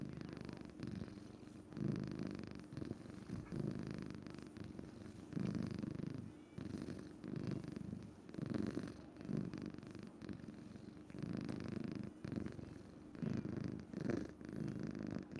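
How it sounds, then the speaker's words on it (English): A cat named Toulouse purrs steadily up close, each soft rumbling breath cycling in a slow, even rhythm with no other sounds. "It just sounds like cat."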